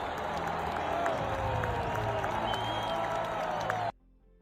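At a home hockey game, the arena crowd boos a player in a dense, sustained roar of many voices that cuts off abruptly just before the end.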